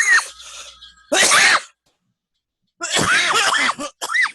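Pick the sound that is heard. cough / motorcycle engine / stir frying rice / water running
cough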